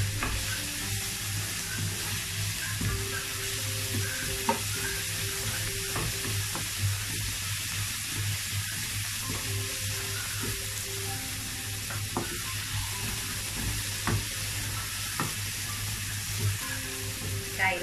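Bitter gourd stir-fried in a pan with a loud, continuous sizzle and crackle, punctuated by regular spatula scrapes and taps, close up with a low steady hum beneath and no talking.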